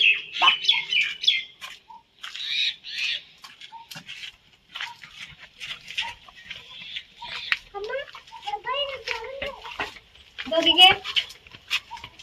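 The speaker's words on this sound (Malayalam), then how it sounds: "മയിലുകളാണോ കൊക്കുകളാണോ ദേശാടന കിളികളാണെന്ന് തോന്നുന്നു ദേശാടന കിളികൾ" A flock of migratory birds calls in scattered bursts of chirps and squawks, with a person talking intermittently nearby.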